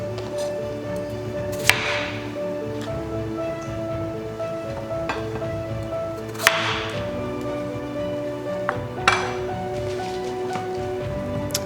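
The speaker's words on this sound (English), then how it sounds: "I'm going to chop potatoes first." A knife chops through potatoes on a cutting board while preparing Korean braised chicken (jjimdak): three or four sharp, isolated knocks spaced seconds apart over a steady tonal background.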